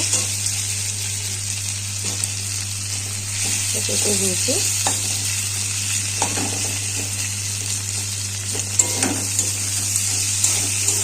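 Tomato going into a pan of fried potatoes for a spicy ribbonfish curry, giving a steady close sizzle with occasional stirring scrapes and a faint hum underneath; a voice speaks briefly.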